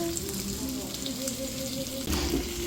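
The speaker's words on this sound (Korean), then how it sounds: "지글지글지글 보글보글보글" Meat sizzles steadily in a hot pan, a continuous crackling hiss with faint background voices and a brief clatter near the end.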